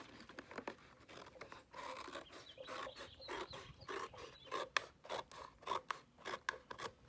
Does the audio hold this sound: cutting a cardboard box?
yes